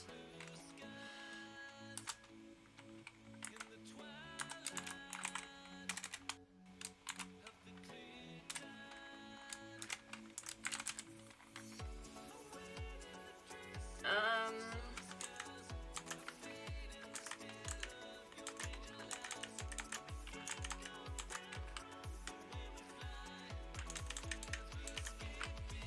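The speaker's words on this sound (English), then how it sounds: "I think you can hear my clicking keyboard better in this mic" Clicky computer keyboard typing while coding a web scraper, irregular bursts of sharp keystrokes, quiet and close, with steady rapid runs of clicks in the latter half.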